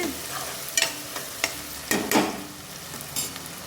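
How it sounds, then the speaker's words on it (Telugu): Onions and green chillies frying in a pan under a steady soft sizzle, broken by several scraping spatula stirs at irregular intervals, close and moderately quiet. "ఇలా తిప్పుకుంటూ ఫ్రై చేసుకోవాలి ఉల్లిపాయలు బాగా వేగాలండి గోల్డెన్ కలర్ వచ్చేదాకా ఫ్రై చేసుకోవాలి"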